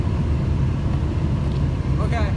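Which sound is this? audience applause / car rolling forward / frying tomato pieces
car rolling forward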